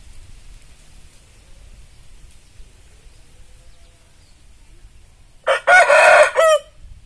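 A Bangkok rooster lets out one loud, close crow lasting about a second over a quiet, low rumbling background.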